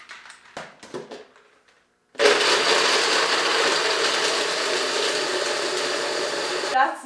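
Ice cubes clatter and a few clicks sound, then a blender powered from an EcoFlow solar kit roars on loud and steady for several seconds while making iced coffee, and it stops abruptly at the end.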